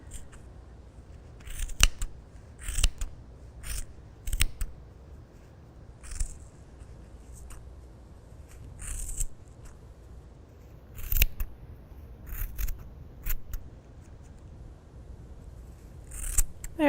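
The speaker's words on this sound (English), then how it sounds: "we'll just cut this open. You're just going to cut through all the loops to free them." Scissors snip through the loops of a crochet yarn pom-pom, a series of short crisp cuts in irregular clusters, close and clear against a quiet background with no talking.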